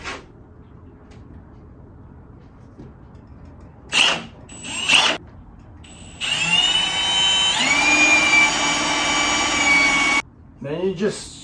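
A couple of short drill bursts, then a sustained high whine of a power drill running for about four seconds aboard a sailboat, rising in pitch before stopping.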